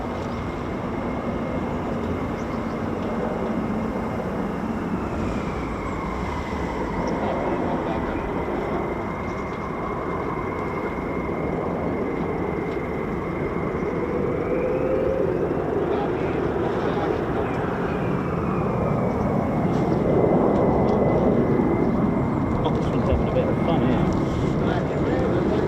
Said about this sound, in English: Oh, what have we got here? F-35s? No, F-15s?